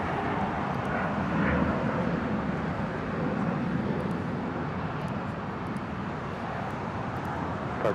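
An airliner departing LAX, a broad steady jet roar heard from a distance that swells slightly early on and then holds as a continuous rumble.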